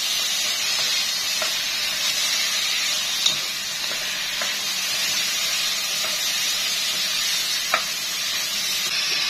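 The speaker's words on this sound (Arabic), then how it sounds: "هنزل باللحمة. واو سامعين صوت الطش ده؟" Meat sizzling loudly in a hot pot for Moroccan-style couscous, a dense steady hiss close up with a couple of sharp utensil clicks as it is stirred.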